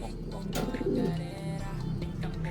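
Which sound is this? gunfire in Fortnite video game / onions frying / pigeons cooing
pigeons cooing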